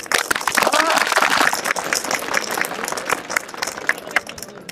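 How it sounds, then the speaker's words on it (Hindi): Crowd at an outdoor rally welcoming a local MLA bursts into loud, dense clapping that swells early, then thins into scattered claps with voices mixed in. "अरे जोर की ताली बजाओ"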